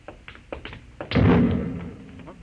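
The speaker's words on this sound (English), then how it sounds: "No, that was an explosion." An explosion sound effect in an old-time science fiction radio drama, a sudden heavy boom that rises out of a few soft knocks and then slowly rumbles away.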